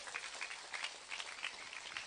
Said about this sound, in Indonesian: Tepuk tangan dulu dong buat panzer